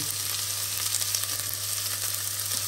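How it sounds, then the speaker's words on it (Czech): Onion sizzles steadily in hot pork lard, a dense continuous crackling hiss at close range with a low hum beneath and no breaks. "No a teď jsem si takhle rozpálil sádlo, dám na to tu cibulku."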